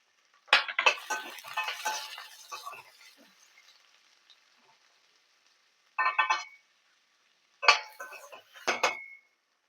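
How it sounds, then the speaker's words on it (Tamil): Close kitchen clatter: a spoon scrapes and stirs onions sautéing with curry leaves in a pot, with a faint sizzle, in short bursts separated by quiet pauses. "வெங்காயம் வதக்கிக்கிறோம்"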